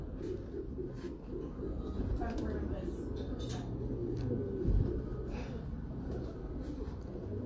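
Caged birds at a pet store coo steadily from close range, the sound running through the whole stretch with a low, constant hum underneath and no clear gaps.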